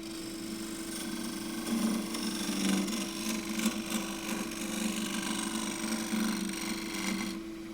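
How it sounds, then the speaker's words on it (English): A 3/4 inch square end scraper works the surface of a wooden bowl spinning on a lathe, giving a steady close whirring hum with a raspy scraping texture that holds evenly throughout, with no talking. "this is going to scrape a lot more easily and cleanly than I can cut it with a gouge"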